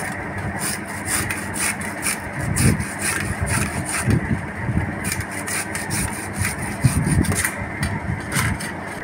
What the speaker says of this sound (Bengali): পেঁয়াজ ঘষে নিচ্ছি